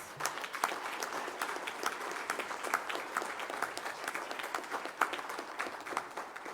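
An audience at an education and social-fabric forum applauds steadily, a sustained wash of many hands clapping, fairly distant and even throughout.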